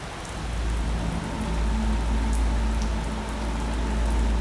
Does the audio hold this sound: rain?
yes